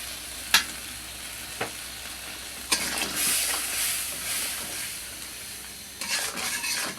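Dried fermented shidol and shol fish sizzle in oil while being stirred, with a steady frying hiss broken by a few sharp utensil clicks and a swell of louder scraping strokes.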